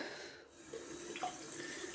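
Water runs steadily from a tap into a bathroom sink, a close, constant hiss with faint splashes and no voices.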